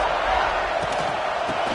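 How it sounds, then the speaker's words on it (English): Steady, loud roar of a college football stadium crowd at an Ole Miss game, a continuous wash of voices with no breaks, kept up against the offense during a drive. "This crowd trying to make life miserable for this offense."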